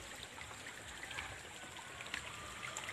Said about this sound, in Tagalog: ayan ang maliit na sapa dito.